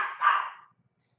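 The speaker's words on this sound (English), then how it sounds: "Dogs are barking." A single short bark from a dog, fairly close and moderately loud, fading quickly into silence.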